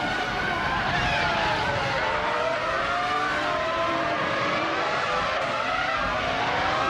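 A Benetton B198 Formula One car races in a video game, its engine droning steadily with shifting pitch throughout, with tire noise and other cars close by.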